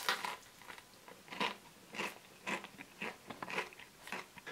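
Crunchy Burger King chili cheese nuggets being bitten and chewed up close, a series of sharp crisp crunches in an irregular rhythm, fairly quiet and without talk.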